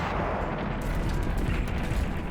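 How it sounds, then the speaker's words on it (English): A heavy artillery barrage during the Japanese assault on Hong Kong Island in 1941 rolls on as a continuous, dense rumble of blasts and crackling fire, loud and unbroken throughout. "The following day, under cover of a heavy artillery barrage,"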